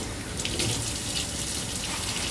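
Water runs from a kitchen tap in a strong, continuous splashing stream over soapmaking gloves being rinsed, steady and close with no voices over it.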